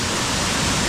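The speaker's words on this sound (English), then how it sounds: "Actually, like a cave under a waterfall." A waterfall roaring over a cave, a dense, steady wash of broadband rushing water, loud and unbroken, heard close with no voices.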